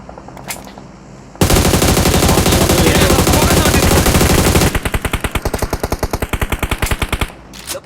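Gunfire in a multiplayer shooter game: a dense, loud burst of continuous automatic fire, then a run of rapid individually distinct shots that taper off, with brief faint sounds before and after.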